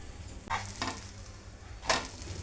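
Peanut dosa frying on a hot pan, a steady soft sizzle with a few brief scraping bursts as the dosa is turned over, close and alone with no voices.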